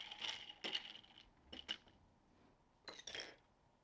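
A spoon clinks and scrapes against a glass while Thai tea is stirred to mix it, a few quick bursts of close metallic tinkling separated by short pauses.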